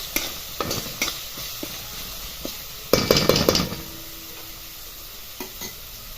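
Fresh grated coconut sautéed in a pan for a green peas curry, giving a soft sizzle with scattered utensil scrapes and a louder burst of stirring midway, close up and fairly quiet.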